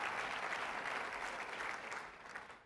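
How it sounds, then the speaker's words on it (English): Sustained applause from a large audience of chapter leaders at the 2023 Moms for Liberty Summit, a dense, steady wash of clapping that fades slightly toward the end. "How about a round of applause for all of you?"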